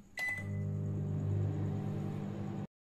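A microwave oven on a steam clean cycle starts up with a short click and beep, then settles into a steady, close hum with a low rumble that continues alone until it cuts off abruptly.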